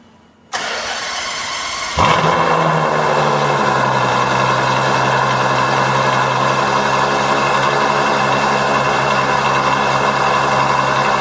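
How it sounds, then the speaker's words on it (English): A Ferrari FF V12 fires up with a sharp starter whir and loud burst, then settles into a steady, rich idle that holds for several seconds, close and unaccompanied by voices. "first we gotta hear the start up, because at the end of the day this is V12"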